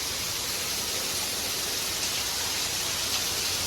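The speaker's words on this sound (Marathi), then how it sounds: "पावसाने नुसती जोर घेतलोय" Heavy rain pours down steadily and loudly, a dense unbroken hiss that holds at an even level for a few seconds with no voices.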